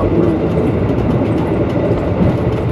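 Argo Bromo Anggrek express train running fast on rails, a steady dense rumble and roar of wheels on track heard from inside, continuous and loud throughout.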